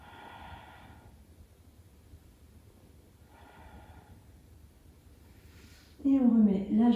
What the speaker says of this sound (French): Quelques respirations ici.